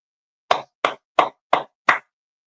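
Five sharp hand claps ring out in a studio, evenly spaced about a third of a second apart. They are crisp and close, with silence between them and no talk.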